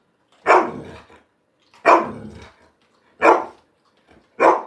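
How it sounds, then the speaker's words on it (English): A dog barks four times at a family gathering, each loud, close bark followed by a short trailing growl, spaced about a second and a half apart with quiet gaps between. "That's barking."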